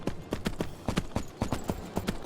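Horse hooves galloping in the video game Three Kingdoms Zhao Yun, a quick regular clip-clop rhythm of sharp hoof strikes, close and steady, heard alone.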